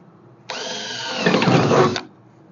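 Power drill boring a hole near the edge of a trailer ramp, one steady whine of about a second and a half that grows louder and rougher as the bit bites in, then stops abruptly.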